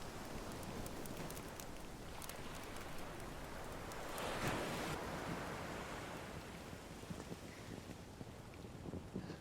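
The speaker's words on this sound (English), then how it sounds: "There's a sound again from the opening. The wind and the water." Steady rushing wind over moving water from a film soundtrack, a broad soft wash that swells slightly in the middle, with scattered faint crackles and no voices.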